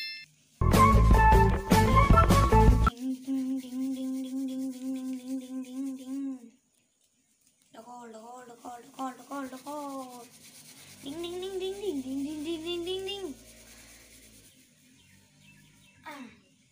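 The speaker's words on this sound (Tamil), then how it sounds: "இதே நம்ம தேய்ச்சா இவ்வளோ சேரும்." A coconut husk is rubbed by hand to make coco peat, giving one loud, rough scraping burst of about two seconds. Quieter chirping, tonal sounds follow.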